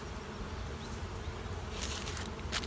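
Honey bees buzz steadily at a beehive in winter or early spring, a dense close hum that carries throughout with slight swells near the end.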